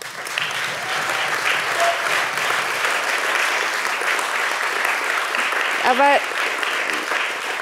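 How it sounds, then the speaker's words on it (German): Listeners at the closing plenary of a Digital Worlds forum at ZKM Karlsruhe give steady, full-room applause. Someone says a single short word near the end while the clapping continues. "Applaus"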